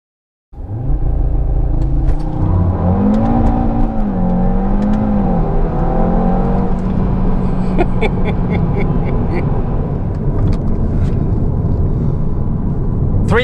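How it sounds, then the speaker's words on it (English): A tuned 2018 Audi RS3 (APR Stage 1, E85) launches hard with launch control on a slight uphill grade, its engine roaring loud and close as revs climb and fall through quick gear shifts over a steady, unbroken rumble. "I got the shifts perfect on that launch control"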